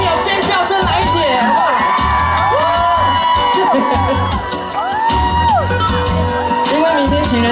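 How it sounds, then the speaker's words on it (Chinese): Fans at an outdoor lantern festival concert scream and cheer, a loud continuous roar of high-pitched whoops and shouts rising in waves over a low rumble. "人你的朋友尖叫声来一点"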